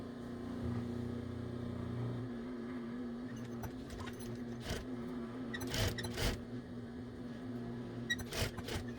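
Sewing machine stitching straight across the beak of a chicken-shaped hooded towel: a steady, quiet motor hum with a running tone and scattered sharp clicks and thumps, with no talking.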